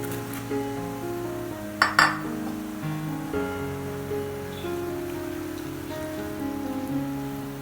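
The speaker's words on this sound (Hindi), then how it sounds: "अब हम इसमें बंद गोभी डाल देंगे और उसको भी फ्राई कर देंगे" Shredded cabbage fries with light-browned onions in a pan for vegetable fried rice, a steady crackling sizzle with occasional sharp clinks of a utensil against the metal.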